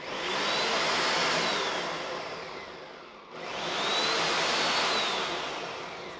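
A blender runs at high speed churning cream into butter, a loud steady whir that dips briefly as it pauses, then spins back up for a second long run, with no talk.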